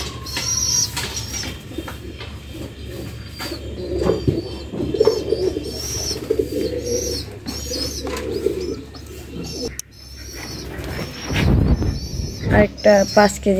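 Domestic pigeons coo softly in a loft where chicks are being hand-fed, with chirps and bird calls mixed in beneath someone talking nearby.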